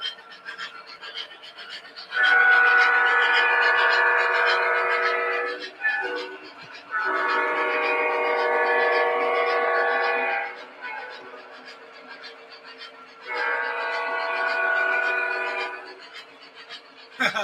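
An SD40-2 locomotive sounds its horn in three long, loud blasts over a steady rumble of a running train, with short gaps between blasts and no talking.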